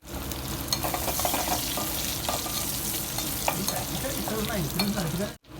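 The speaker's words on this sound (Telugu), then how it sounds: "మంచిగా పోపుని మాడిపోకుండా ఈ విధంగా సిమ్లో పెట్టి వేయించుకుందాము" Mustard seeds, cumin and two or three dry red chillies fry in oil on low heat, a steady close sizzle with crackling pops and scraping stirs throughout, cutting off briefly near the end.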